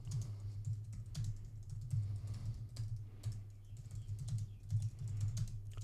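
Rapid keystrokes on a computer keyboard clatter in uneven bursts with short pauses, close and fairly quiet, with a low hum beneath and no talking.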